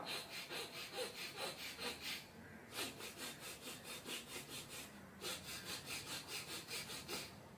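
Bhastrika bellows breathing in yoga: fast, even, forceful in-and-out breaths through the nose with a rasping, sawing rhythm, close and continuous apart from two brief pauses.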